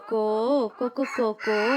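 A voice imitates a rooster's loud crow, a drawn-out squawking cock-a-doodle call with wavering pitch, close and forceful.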